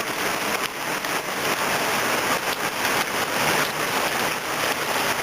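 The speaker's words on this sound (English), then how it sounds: "it's raining into my beautiful trench." Rain falling into an open foundation trench, a dense steady hiss of drops with slight pulsing swells, continuous and close throughout, with no talking.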